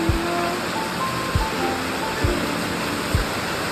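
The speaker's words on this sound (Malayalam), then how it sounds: "ഇതുപോലെ അങ്ങോട്ട് എടുക്കുക കഴുകുക." Water runs and splashes steadily while rice for Kerala-style pazham kanji is washed by hand, a broad close rushing sound with a few soft low thumps spaced through it.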